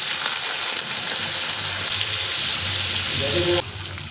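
Prawns coated in turmeric and salt dropped into hot oil left from frying pointed gourd, giving a loud, dense, continuous sizzle close up that drops slightly near the end, with no one speaking.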